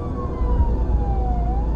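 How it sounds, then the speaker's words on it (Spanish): Police car siren switched on during a pursuit on a Mexican highway, a steady wailing tone sliding slowly downward then rising again over loud low engine and road rumble, close and continuous. "encendí la sirena y pisé el acelerador para tratar de"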